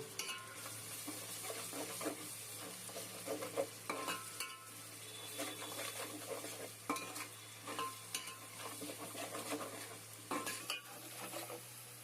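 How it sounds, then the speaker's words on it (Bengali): Ground spices frying into a wet spice paste for potato biryani, stirred with a utensil scraping the pan in repeated strokes over a steady low sizzle, close and clear with no talking. "গুঁড়ো মশলাটা বাটা মশলাতে কষিয়ে নেব"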